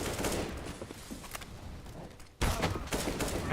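Loud, dense bursts of gunfire from a CS:GO match, a continuous fusillade with a brief dip before a sharp, heavier volley resumes.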